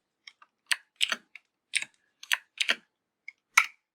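Computer keyboard typing during a programming lecture, a handful of crisp, separate key clicks and short bursts spread unevenly over a few seconds, close and clear with no talking.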